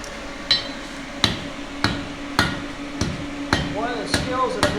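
A blacksmith hammers hot steel to forge a leaf in a single heat, delivering about eight sharp, ringing blows at a steady pace, each rising over a low shop drone.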